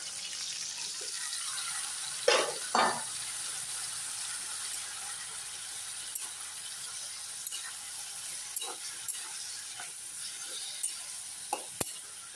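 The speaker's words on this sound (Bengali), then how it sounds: "আমি দিছি আমারে সজিনার ফুল ভাজি করতেছি, পাতা ফুল আলু দিয়ে" Drumstick flowers and leaves fry with potato in a pan, giving a steady, quiet sizzle with a few sharp clinks and scrapes of stirring scattered throughout.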